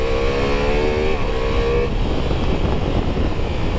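A Ducati Multistrada V4 S motorcycle engine screams at high revs, holding a steady high-pitched whine before dropping off, loud and close with no voices.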